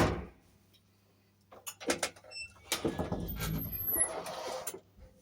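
Inner door of a Kolmer elevator in an Istanbul apartment building sliding, with clunks and a rolling scrape at moderate volume after a quiet stretch, no talking.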